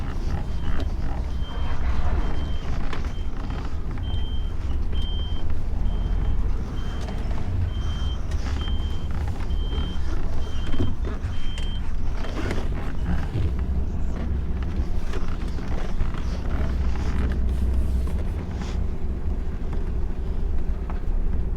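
A truck backs a step frame trailer onto grass, its reversing alarm beeping in a steady, evenly spaced pattern over a constant low engine rumble and wind buffeting the microphone.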